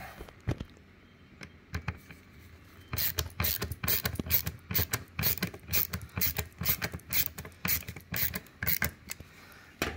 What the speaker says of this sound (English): And then you put your screws in. One at a time.